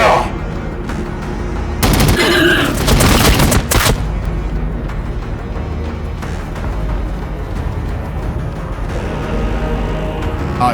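Rapid gunfire volley rattles through a Warhammer 40K Battlesector battle, a dense burst of shots peaking for about two seconds before dropping back to scattered fire and a steady combat din.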